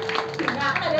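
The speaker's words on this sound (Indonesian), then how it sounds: "Saja nenek tepuk tangan dulu." Hands clapping at a Balinese prembon temple performance, a brief close burst of claps mixed with a voice talking over it.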